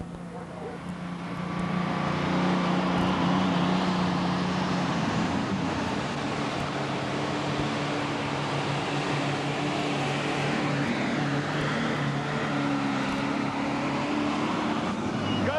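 A sled-pulling tractor's engine roars loudly and steadily through a straight run at a 1994 NTPA pull in Lexington, Alabama, holding a constant heavy drone from start to finish.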